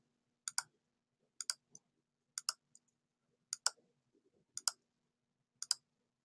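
Crisp computer mouse clicks while outlines are traced in graphics software, coming in quick pairs and triplets spaced about a second apart, close and clear over a quiet background.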